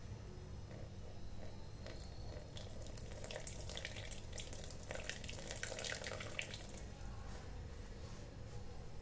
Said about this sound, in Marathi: पाणी घ्यायचं आणि थोडं वरतून टाकायचं.